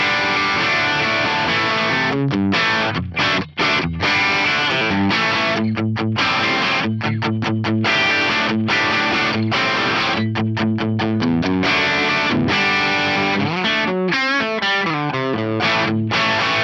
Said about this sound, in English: That is a pretty nice Marshall style crunch tone on there.